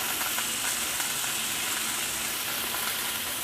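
Pork sirloin steaks browning in a hot skillet give off a steady, even sizzle and hiss of frying fat, loud and constant from start to finish, with no speech.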